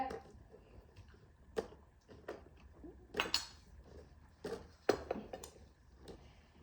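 A spoon clinks against a dish several times at irregular intervals, sharp light taps close by over a quiet room murmur.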